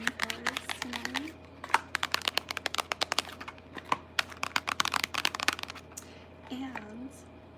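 Fingernails tap quickly and crisply on a keyboard in an irregular, dense patter of close clicks, with a few soft vocal murmurs in the background.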